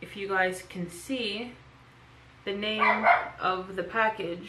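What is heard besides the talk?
dog barking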